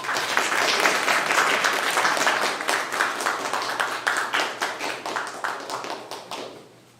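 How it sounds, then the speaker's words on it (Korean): Audience applause at a T1 event-match award ceremony, a dense crowd of clapping that holds steady, then thins and fades out near the end. "네, 박수 한번 쳐주세요."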